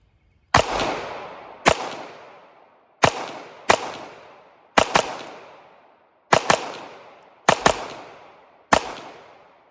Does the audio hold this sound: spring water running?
no